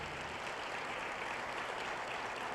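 A church congregation claps for the Lord during a service, a steady, even patter of many hands at moderate distance with no voices over it.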